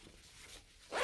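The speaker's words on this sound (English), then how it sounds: "Easy to zip." A zipper on a camo Wulcea heated vest gives one quick, fairly close zip at the very end, after a near-silent pause.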